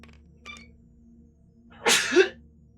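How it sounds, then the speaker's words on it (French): A single loud sneeze bursts out close by during a HeroQuest board game session, preceded by a faint short sound and quiet room tone. "Je vais éternuer."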